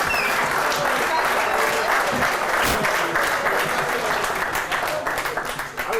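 An audience at a homebrewing bootcamp talk on brewing with Cleveland water breaks into loud, sustained applause, dense clapping that fills the room and tapers slightly near the end.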